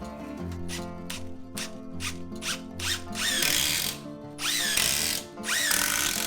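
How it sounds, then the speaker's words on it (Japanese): A power driver sets screws through a cedar door lintel in a tatami room of a new house, with repeated whirring bursts that rise in pitch and a few squealing spins, close and fairly loud. "上刃からビスでしっかり留めて"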